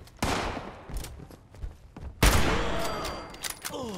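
Gunfire in the video game Fallout 76: several sharp shots crack out with gaps between them, then a heavy, loud blast rings on with a lingering tail.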